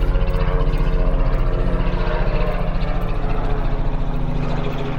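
A helicopter drones steadily over the village of Wingfield, Wiltshire, its rotor thumping in a fast, even pulse beneath a dense engine rumble.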